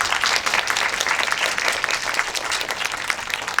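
A theater audience at a Korean film talk event breaks into warm, sustained applause, dense clapping from many hands filling the room as the guests are welcomed.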